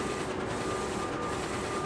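A DTF printer at work gives off a dense, even mechanical whir with a faint steady whine on top, constant and nearby, with no speech.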